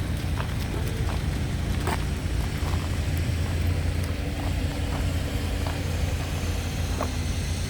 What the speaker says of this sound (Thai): รถก็ทยอยมาเรื่อยๆค่ะ